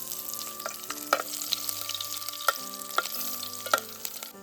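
Garlic cloves fry in a pot over an outdoor wood fire at a forest campsite, a soft sizzle under repeated metallic clinks and scrapes of a spoon, with a low steady hum beneath; no one talks.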